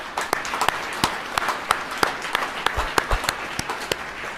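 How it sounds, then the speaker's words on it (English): A graduation audience applauds college employees, sharp handclaps mixing into a steady, moderately loud round of clapping in a large hall. "Let's give all these college employees a round of applause."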